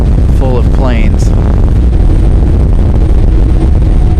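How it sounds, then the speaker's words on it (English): Strong gusts batter a microphone at an airport plane-spotting spot, a loud constant low buffeting roar that swamps everything, with faint voices and a brief whine at the start buried underneath. "As you can hear the wind hitting pretty hard."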